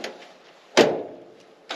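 A door on a 1963 Ford F350 truck is pushed shut with a single solid thump, close and fairly loud, followed by a softer knock near the end.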